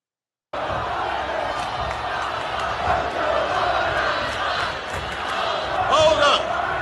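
Rowdy home-team crowd at a Barack Obama rally, a steady loud roar of many voices with shouting and cheering swelling throughout, close and continuous.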